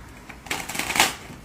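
A deck of playing cards is given a boxing shuffle, a short busy patter of riffled cards with a fuller swish near the end. It lasts just over a second and sounds close by.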